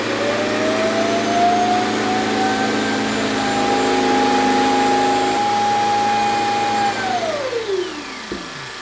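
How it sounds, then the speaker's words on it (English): A Shark AI Ultra 2-in-1 robot vacuum empties into its self-empty XL base with a loud, steady motor whine that holds its pitch, then winds down sharply near the end. "it's hooking itself up to the self-empty tank and evacuating all its"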